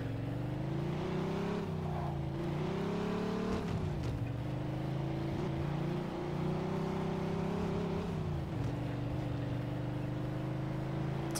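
A car engine in the video game Mafia II drones steadily while driving, a smooth mid-pitched hum that rises and dips with gear changes and throttle, continuous and fairly quiet.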